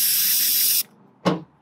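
Cleaner sprays in a loud, steady hiss onto a camshaft actuator solenoid from an Ecotec 1.4 engine, stops briefly, then comes back as a short second burst.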